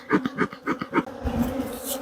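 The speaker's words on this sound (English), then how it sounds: "Let the bees crawl up to the new entrance" Honey bees buzzing around a hive entrance in a farm apiary, a close, pulsing drone that swells in several quick bursts before settling into a steadier hum.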